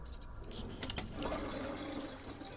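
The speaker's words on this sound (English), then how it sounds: "Remember to always flush when you're done." A toilet flushing in the stealth game Dishonored: Death of the Outsider, a short rushing, gurgling swirl of water that swells and then settles, heard close and alone.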